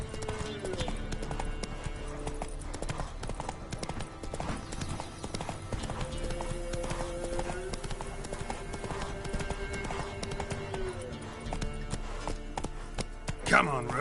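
A horse gallops in The Witcher video game, its hooves pounding in a fast, steady, close rhythm throughout, with game voices heard now and then over the hoofbeats.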